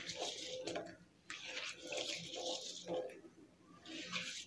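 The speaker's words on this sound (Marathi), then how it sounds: "त्याच्यामध्ये भरपूर पाणी ओतायचं आहे आणि गवार आहे ती स्वच्छ धुवून घ्यायची आहे" Cluster beans (guar) rubbed and swished by hand in a bowl of water, soft intermittent splashes and trickles repeating in gentle bursts, fairly quiet and close.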